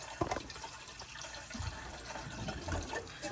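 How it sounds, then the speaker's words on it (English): Water pours into an Instant Pot electric pressure cooker pot, roughly four cups going in as a steady splashing fill, close and moderately loud with a few louder gushes. "I added about 4 cups of water to my Instant Pot."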